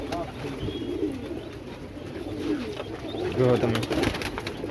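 Pigeons cooing in a flock, with soft, low, throaty coos repeating throughout under a continuous background hiss, while a person talks briefly over them.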